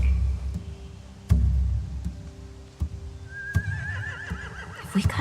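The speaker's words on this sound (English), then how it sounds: "They have horses." Horses neigh and whinny in the game The Walking Dead: The Final Season, with a clear whinny near the end above a low background of shuffling and hoof knocks, and no voices.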